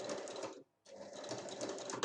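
Sewing machine stitching the seam of a fabric pouch, a steady close whirring run that stops briefly for under a quarter second, then resumes and continues to the end.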